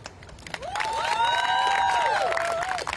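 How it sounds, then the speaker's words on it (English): Outdoors at a college student walkout protest in Washington, D.C., a crowd cheers and whoops with loud rising shouts over scattered clapping, a dense sustained roar close by. "I would like to give a round of applause for Professor Hampton."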